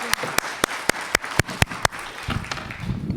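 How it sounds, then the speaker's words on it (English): Sparse, loud, evenly spaced claps ring out close by at an awareness event, followed by softer scattered clapping and murmuring as the round of applause for a speaker dies down. "Let's give one more round of applause to Lisa for sharing her story."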